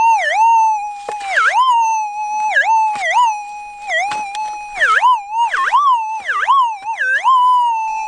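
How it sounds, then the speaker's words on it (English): A metal detector, used while testing gold ore, emits a loud, piercing, continuous warbling tone that dips and swoops repeatedly in pitch, close and alone. "Holy hell, is the sound from this detector incredibly annoying."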